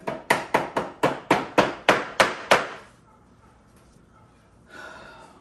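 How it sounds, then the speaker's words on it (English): Rubber mallet tapping a used wooden dining set, about ten sharp, evenly spaced knocks close up in quick succession, then quiet shuffling with a faint hiss at the end. "And now we get our rubber mallet."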